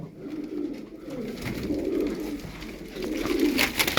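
Pigeons coo in a loft of show birds, soft low repeated coos close by, layered over one another with some rustling, and no talk.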